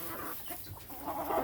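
A Silkie cross chicken clucks close by in a short run of soft, low murmuring clucks, with no talking over it.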